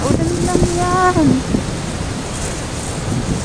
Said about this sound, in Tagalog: Ayan mo na yung ulan, guys.